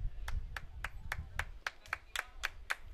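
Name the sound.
applause from fans at a men's soccer match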